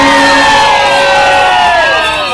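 Loud crowd cheering and shouting at an outdoor political rally in Matuu, with whoops and raised voices sustained over the whole moment and a tonal whistle-like sound running through it.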